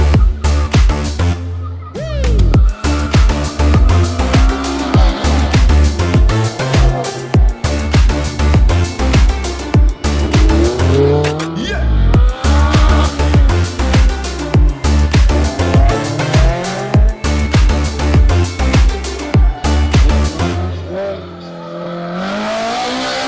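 Cars attacking a slalom course at a motorsport club event, with engines revving hard, repeated throttle bursts and squealing tires rising and falling in quick runs, loud and close throughout.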